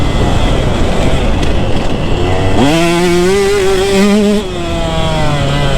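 Engine of a KTM 150SX two-stroke motocross bike during a practice ride, steady loud rasp that climbs in pitch as the throttle opens, holding a high rev before easing slightly, close and continuous with no talk.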